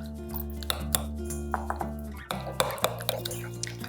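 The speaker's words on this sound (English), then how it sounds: "we're just gonna mix this" Sesame oil and miso sauce ingredients being mixed in a bowl, giving a series of light clinks and taps of a utensil against the bowl, close and fairly quiet, with a steady hum underneath.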